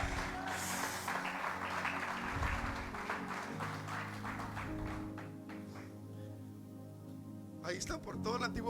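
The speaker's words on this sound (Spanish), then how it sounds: "Eso merece un aplauso." A church audience applauds during a Spanish-language sermon, dense clapping running steadily for several seconds under sustained musical tones, then thinning out near the end.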